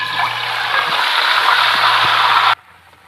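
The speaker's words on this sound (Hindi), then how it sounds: "अब हम ऑयल में चिकन डालेंगे।" Marinated chicken hits hot oil in a pot with a loud, continuous sizzle and hiss, close up, then cuts off abruptly.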